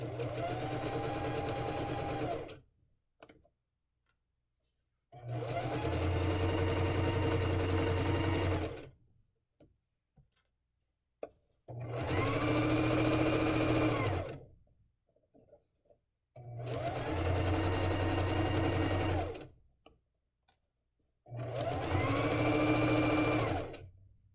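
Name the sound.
sewing machine stitching a permanent seam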